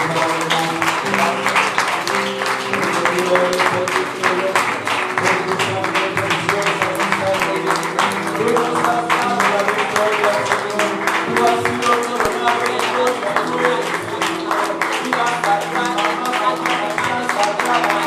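A church congregation at a Sunday morning service gives loud, sustained applause in praise, a dense, steady clatter of clapping lasting many seconds, with voices mixed in.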